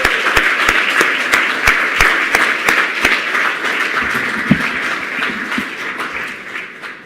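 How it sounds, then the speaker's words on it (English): An audience at a health innovation competition demo day applauds a winning team with a dense, steady burst of clapping. A few sharp individual claps stand out early on, and the applause fades slowly toward the end. "So round of applause to Ergo."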